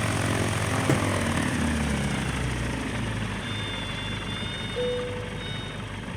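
A propeller aircraft lands in Microsoft Flight Simulator, its engine drone steady and full throughout, with a brief thump and a faint high tone rising over the continuous hum.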